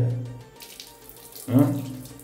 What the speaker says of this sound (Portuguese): Olha essa torneira, gente. Olha o detalhe da torneira.